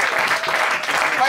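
A church congregation claps and cheers in a brief, steady burst of dense applause filling the hall.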